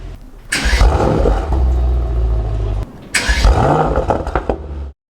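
A 2019 Mercedes-AMG GT 63 S 4-Door engine roars up twice, each rev trailing off into a crackle of sharp exhaust pops before it cuts out abruptly.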